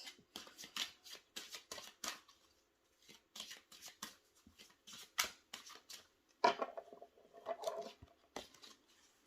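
Tarot or oracle cards shuffled for a card reading, a steady run of crisp riffling and slapping bursts, close and fairly quiet, with a denser flurry near the end.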